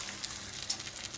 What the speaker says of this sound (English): Oh, a little bit of sizzle